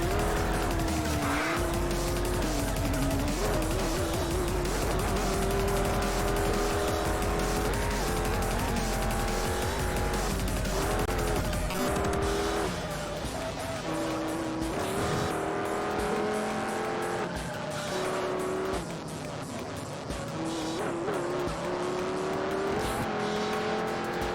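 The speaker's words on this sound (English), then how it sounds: "Viper driving still appears to be alright." A Dodge Viper screams around a track in the racing game Juiced, its engine droning loud and steady with repeated tire squeals through the corners, over game music, with no talk.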